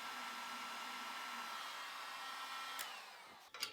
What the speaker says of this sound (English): I start by applying heat with my heat gun for a few minutes.